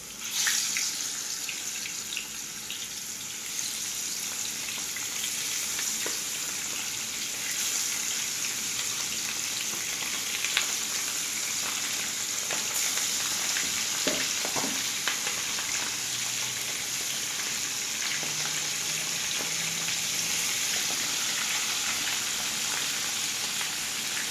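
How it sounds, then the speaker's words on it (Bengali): Tilapia fish pieces fry in hot oil in a pan, giving a steady, close hiss of sizzling that runs the whole time, with a few faint clinks and no talking. "রহিম মাছগুলার ফ্রাই করতেছি আমি এগুলো হচ্ছে তেলাপিয়া মাছ"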